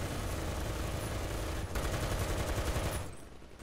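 A tank's coaxial machine gun in War Thunder fires a long, continuous burst, loud and dense with heavy battle rumble beneath it, then cuts off near the end.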